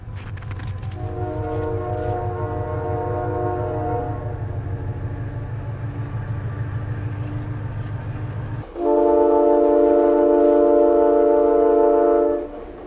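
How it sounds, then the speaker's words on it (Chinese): A train passes close by on a winter hillside above Yanji in northeast China, a steady loud rumble with a sustained horn blast that stops, then resounds even louder near the end. "近处有火车经过"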